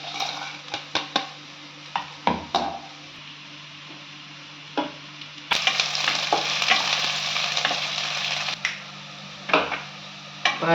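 Ingredients for Angara chicken fry and roast in a pan, with a steady sizzle, scraping and clinking of a spoon or spatula against the metal, and a louder surge of frying midway.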